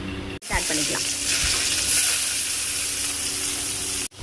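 Mustard seeds hit hot sesame oil, bursting into a loud, steady sizzle with brief popping at the start that stays close and dense until it cuts off near the end.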